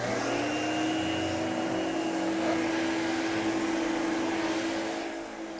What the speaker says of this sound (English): you can speed up your vacuuming and go around the room methodically.